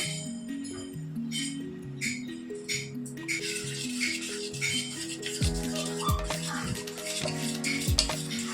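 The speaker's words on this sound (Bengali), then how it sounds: "ময়দাটা আমি এবার এর মধ্যে আমি মেখে নেবো" Rice-flour and flour batter being stirred and kneaded by hand in a metal bowl for jackfruit patishapta, with steady scraping, stirring and light clinks of utensils against the pot, close and moderately loud, with music playing underneath.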